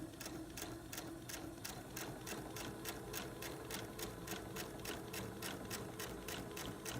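A sewing machine quilting stitch in the ditch along a seam runs steadily and close, its needle chattering in a fast, even rhythm throughout without pause.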